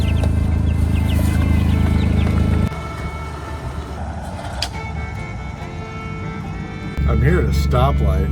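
Chickens riding in a car stopped at a stoplight cluck in short bursts over the low idle hum of the vehicle, with a voice faintly present.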